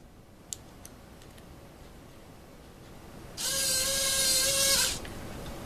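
The turret motor of a model tank's quad 50 unit whirs for about a second and a half, a steady mechanical hum rising over faint clicks and room noise, close and fairly loud, with no voices.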